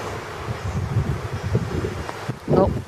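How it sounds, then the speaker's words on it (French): Strong wind buffets the microphone in a steady rumbling roar, with a louder gust near the end. "il y a beaucoup de vent"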